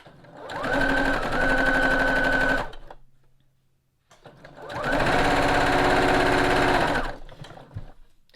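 A sewing machine stitching fabric strips for a string block quilt, running in two steady, rapid bursts of about two seconds each with a brief pause between, close and clear with no talking.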